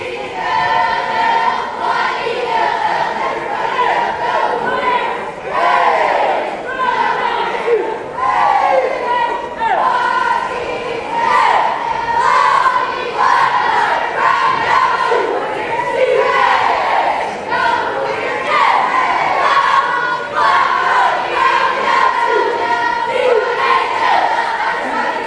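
Happy Valley Warriors cheerleaders chanting a rhythmic cheer at a girls basketball game in a gym: loud group shouts in repeated bursts, with crowd noise and chatter under them throughout.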